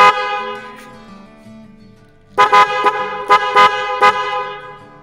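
A motorcycle's snail-type horn, wired through a relay, sounds one long, steady tone, pauses briefly, then gives a series of short, loud toots close by.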